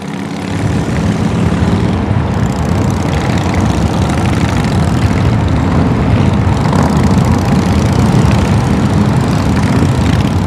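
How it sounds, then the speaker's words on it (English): A motorcycle engine roars loudly and continuously, a dense, steady mechanical drone held close for about ten seconds with no talking. "That motorcycle there, that machine, you got to do something to feel alive."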